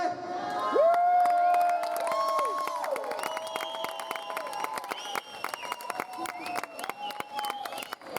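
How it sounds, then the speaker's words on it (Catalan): A crowd at a pre-event for the 2024 Diada de Catalunya claps and cheers to pick a winner, loud and sustained, with shouts, whoops and whistle-like tones throughout. "en els aplausos que fareu i en els crits, a veure qui ha guanyat dels dos"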